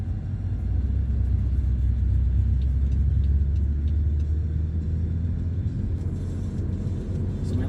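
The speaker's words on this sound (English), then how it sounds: "I've got this cyclist here and a truck passing me." A truck passing a car on a Dartmouth, Nova Scotia road during a driving test, heard from inside the car as a heavy low rumble that swells and then fades slowly, with steady road noise beneath it.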